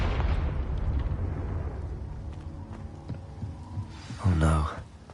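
A Confringo spell blast in the Hogwarts Legacy video game: a short, loud burst near the end, after a low rumbling, throbbing hum.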